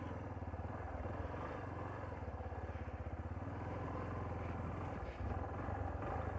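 Motorcycle engine running steadily with a rapid, pulsing thump while riding, close and constant against wind rumble, with a brief dip near the end before picking up again.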